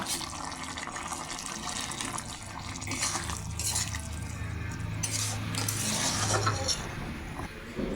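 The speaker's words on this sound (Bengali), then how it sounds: "ভেজে রাখা চিংড়ি মাছটা আমি দিয়ে দিলাম দিয়ে দিয়ে ভালো করে নাড়াচাড়া দিয়ে আমি নামিয়ে নেব" Fried shrimp being stirred into a simmering jackfruit curry, giving a continuous wet bubbling and sloshing with soft spoon strokes against the pot, close and moderately quiet throughout.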